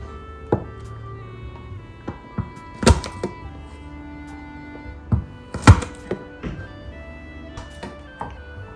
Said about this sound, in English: I smash it with the knife.